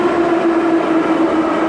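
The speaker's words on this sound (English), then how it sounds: "Metro is loud as fuck." A loud metro train runs at a steady roar, a constant hum with a sustained tonal whine layered over broadband rumble, heard from inside the car.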